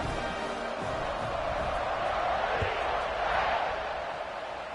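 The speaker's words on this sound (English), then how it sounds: "this crowd is buzzing after that last score." A stadium crowd buzzes with a dense, steady roar in the football video game College Football 26 at a Penn State vs Auburn matchup, continuous and loud throughout.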